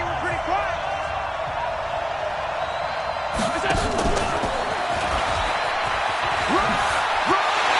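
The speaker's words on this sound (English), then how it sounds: "The crowd here in the Dome making things difficult." Stadium crowd roaring in a domed arena during an American football video game, a steady loud wash of noise with swells of cheering and whoops, a commentator's voice talking over it throughout.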